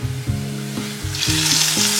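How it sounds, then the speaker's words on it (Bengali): Small boneless chicken pieces frying with onions in a pan, a steady close sizzle with rhythmic stirring scrapes roughly every half second. "এবার এর মধ্যে আমি চিকেনের পিসটা অ্যাড করে দেবো।"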